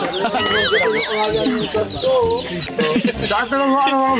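A flock of chickens clucks and squawks close by in overlapping bursts, with people talking over the birds throughout.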